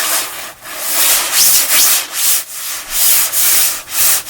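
An H&M puffer coat swishes as it is moved, making a series of close, rhythmic nylon rustles, roughly eight brushing strokes with short pauses between them.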